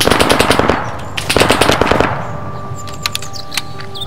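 Automatic gunfire from the ArmA 3 military shooter with the JSRS sound mod, set in a winter Chernarus scenario: two loud, rapid bursts of several shots each, then a few sparser, quieter single shots.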